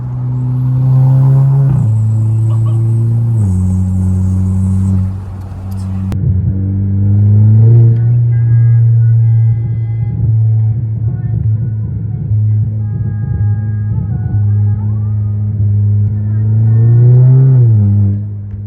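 An Audi B8 A5 with an aftermarket ECS Tuning B8 A4 exhaust cruising on the highway, a loud steady low exhaust drone that rises and dips with throttle, heard from inside the car.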